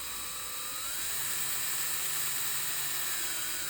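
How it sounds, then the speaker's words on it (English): Electric drill boring with a brad point bit and countersink while driving 1 1/2-inch deck screws into a DIY insulated window insert, a steady high whine held throughout. "I'm using a brad point drill bit with a countersink"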